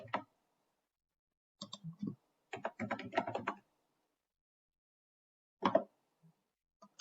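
Typing on a computer keyboard into a search bar, sparse clusters of light clicks and taps with short bursts of several keystrokes separated by silent pauses, close and quiet.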